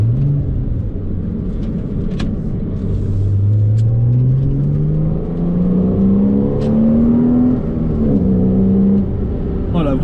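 A Porsche Cayman S pulls hard on a rain-wet road in a loud interior recording, the engine note rising steadily through the revs with a brief dip at a shift, tire hiss beneath, while someone talks over it.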